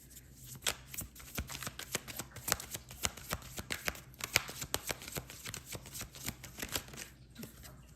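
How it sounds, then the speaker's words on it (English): Playing cards are shuffled close up, a rapid series of crisp riffling snaps and flicks repeating steadily throughout. "I was shuffling the cards for Dixon."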